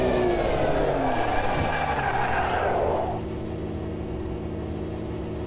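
A car held at about 80 mph in second gear roars loudly and steadily, then the driver lifts off the throttle and the engine note drops and eases away, close and alone.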